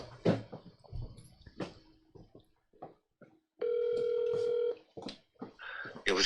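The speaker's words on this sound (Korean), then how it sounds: "정성모 교수님한테 전화를 한번 해보겠습니다" An outgoing phone call to an industrial design professor rings once as a clear electronic tone lasting about a second, set among quiet clicks and faint handling noises in a radio broadcast.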